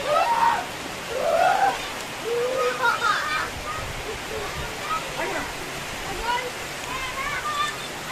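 A steady hiss of heavy rain fills the scene as people talk and call out over it.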